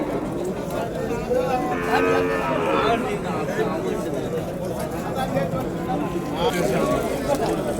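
Cattle low and moo at a busy outdoor cattle market in Vaniyambadi, several drawn-out calls rising over a crowd of chattering voices, with someone talking close by throughout.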